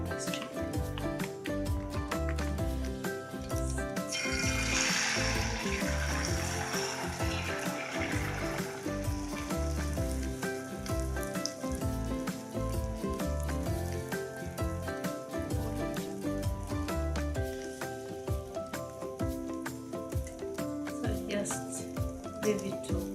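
Beaten egg mixture for a Ugandan chapati rolex hits hot oil in a pan, and a broad, steady sizzle swells for several seconds before settling, heard beneath background music.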